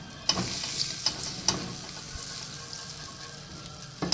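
Ghee sizzling on a hot grill pan for homemade burgers, a soft continuous hiss punctuated by several sharp metallic taps and clinks, close by, with no one talking.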